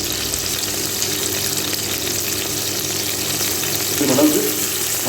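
Sliced big onions fry in hot oil for a mushroom dum biryani, a dense, loud, steady sizzle with a short burst of bubbling crackle near the end.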